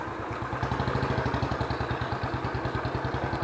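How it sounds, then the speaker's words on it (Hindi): A motorcycle engine revving in first gear, running with a rapid, even chugging pulse that sounds close and fairly loud, holding steady throughout with no talking. "ये आप देख सकते हैं मैं यहाँ पर कितनी ही रेस दे रहा हूँ।"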